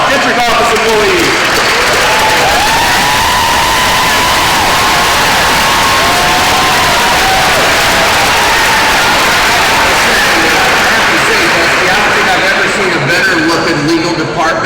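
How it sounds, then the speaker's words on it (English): A large convocation crowd applauds and cheers for district office employees, dense loud clapping with whoops and shouts sustained throughout, voices mixed in. "Everyone from the district office, please stand up and give them a round of applause."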